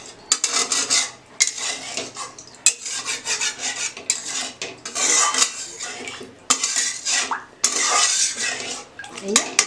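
Pressure cooker holding mutton curry: its metal lid scrapes and clinks shut and clatters onto the stove, loud and close, in repeated bursts of rattling metal.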